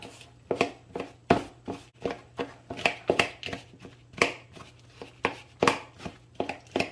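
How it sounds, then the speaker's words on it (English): Knife cutting butter into a cobbler topping mixture in a bowl, a close series of quick, irregular chopping taps and scrapes repeating throughout, no talking. "I'm gonna grab that knife back and we are gonna kind of cut it into our topping mixture"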